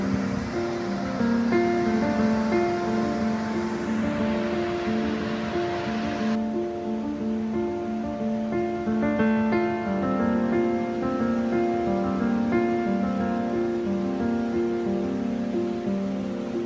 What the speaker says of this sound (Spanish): se halla una extensa caída de agua de 10 metros de alto